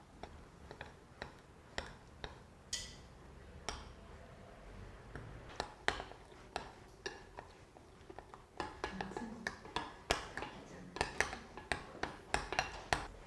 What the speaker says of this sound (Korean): 밥 숟가락을 사용해서 덩어리 지지 않도록 잘 저어주세요